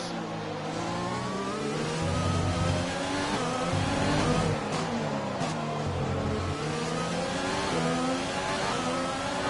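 F1 race car engines in the F1 2020 racing game at the Mexico circuit, a continuous high-pitched engine whine rising and falling with throttle and gear changes, loud and steady throughout with no speech.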